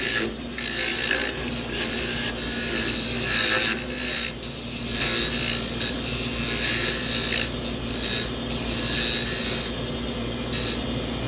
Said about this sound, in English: try turning some 100-year-old pecan with a dull spindle gouge